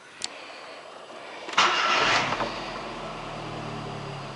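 A 2008 Volkswagen Saveiro with 192,000 km on it cranks briefly and fires up after a small click, then settles into a steady idle close by.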